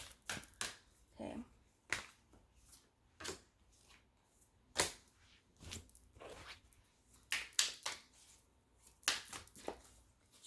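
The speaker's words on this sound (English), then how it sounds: "Shuffling the cards." A deck of tarot cards shuffled by hand nearby, giving irregular soft slaps, riffles and sliding swishes spaced through the quiet stretch, fairly faint and with no voices.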